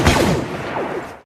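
A few Star Wars blaster shots zap with quick descending whines over a dense rumbling background, then cut off abruptly.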